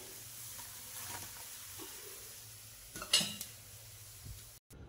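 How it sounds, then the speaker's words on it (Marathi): Alu vadi, sliced rolls of colocasia leaves, sizzle softly in hot oil, a faint steady crackle broken by a few clinks of a utensil against the pan near the end. "आता हे राहिलेली आळूवडी पण मी जेवढे पाहिजेत तेवढे मी आता लगेच तळून घेणार आहे"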